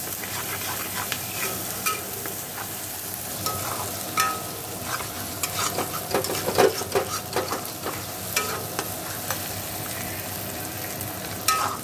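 Spices cook in a pan as salt and turmeric are stir-fried into the mix, with a steady low sizzle under repeated scraping and stirring strokes of a spatula, close and continuous with no talking.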